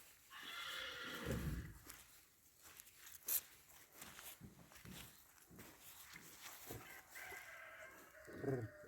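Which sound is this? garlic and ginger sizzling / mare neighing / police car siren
mare neighing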